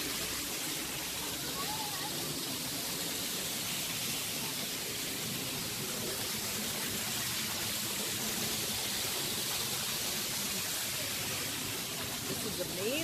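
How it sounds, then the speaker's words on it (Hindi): Waterfall at a panda park in China: a steady, dense broadband rush of falling water filling the whole stretch, with faint talk underneath. "पानी का झरना और क्या उसकी आवाज आ रही है"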